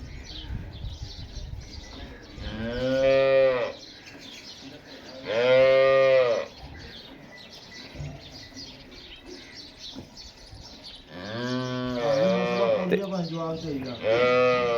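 Cattle, including a pink-coloured young heifer, moo several times, loud, drawn-out calls with pauses between, close by, over a low background of outdoor noise.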